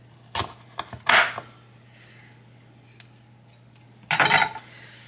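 A knife cuts an apple into thin slices on a cutting board, with a few separate crisp slicing taps and short knocks, close and otherwise quiet.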